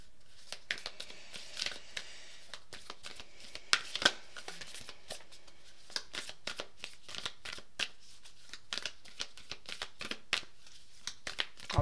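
Oracle cards are shuffled and drawn by hand in a quiet room, a steady run of soft, crisp riffles and flicks with sharper snaps as individual cards are pulled out.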